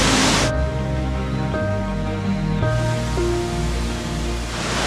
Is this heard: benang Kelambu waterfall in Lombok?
yes